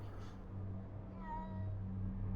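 A cat meows in the attic of the Junji Ito Maniac video game, one drawn-out, clear but moderately quiet meow rising and falling over a steady low background hum.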